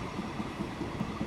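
A train rolls on rails in the game Transport Fever 2, giving a continuous low rumble with faint rhythmic clicks of wheels, heard alone.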